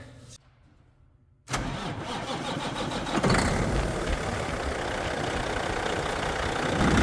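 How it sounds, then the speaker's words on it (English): A Caterpillar C-15 diesel engine cranks and catches after a brief quiet gap, then settles into a loud, steady idle with a rough clattering rumble, close by and with no speech. "Now we're going to go fire up the motor."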